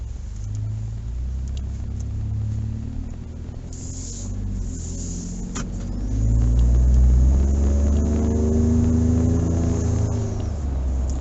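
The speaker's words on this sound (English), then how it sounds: "Barely touch the gas, it takes off." A tuned Ford F-150 EcoBoost pickup accelerates from the cabin, its low engine rumble swelling louder midway as it pulls hard, with steady road and drivetrain noise underneath.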